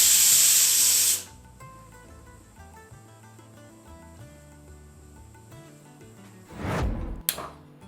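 A pressure cooker holding dal makhani lets out a loud, sharp hiss of escaping steam for about a second, then falls to a quiet background with soft tonal sounds, followed by a short rushing burst near the end.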